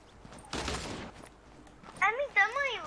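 A short burst of rapid gunfire in Fortnite crackles, followed moments later by quick wavering electronic game sounds; no speech over it.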